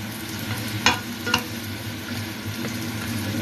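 Risotto rice and butter cook in a pan with a steady frying sizzle, punctuated by a couple of brief scraping stirs.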